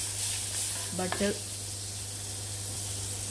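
Butter sizzles in a hot kadai for a quick pasta recipe, a steady close hiss of frying with a brief stir or clink partway through, under a constant low hum.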